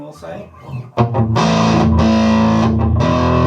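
A guitar played through a Boss ME-90 multi-effects unit set to metal distortion: after a few spoken words, a loud, thick, sustained distorted chord rings out and holds steadily to the end.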